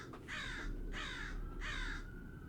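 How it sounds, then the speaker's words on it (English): A crow caws outdoors three times at a steady rhythm, loud and fairly near, over a low constant background rumble. "That's why the bird's freaking out."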